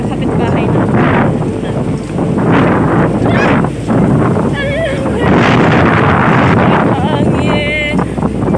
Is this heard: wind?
yes